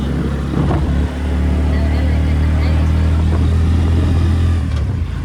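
An auto rickshaw engine drones steadily during a ride through Bhavnagar, a loud, close, low rumble with a slight dip near the start before settling into a constant chugging hum.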